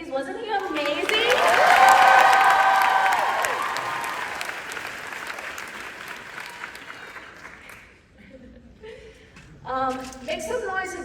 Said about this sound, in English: Can I have a round of applause for Bo, please?